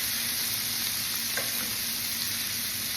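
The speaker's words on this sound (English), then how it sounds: "And then we're just gonna baste." A steak sizzles and spits steadily in a large pan as it is basted with garlic-seasoned olive oil, a continuous close frying hiss with no speech.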